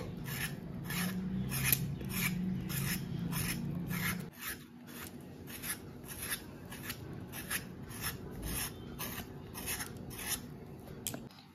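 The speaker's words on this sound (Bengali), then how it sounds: "এই জন্য পটলটা একটু ঘষে নিয়ে এইভাবে সব পটলগুলোকে একটু ঘষে নেব আগে।" Pointed gourds (potol) scraped by hand, a steady run of rapid, close rasping strokes, heavier over the first few seconds, then lighter and continuing evenly to the end.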